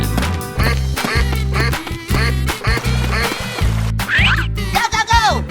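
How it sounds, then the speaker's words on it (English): A cartoon duck gives a rapid string of loud, nasal quacks over a bouncy, rhythmic children's music track, with a squeaky, rising cartoon effect near the end. "Duck."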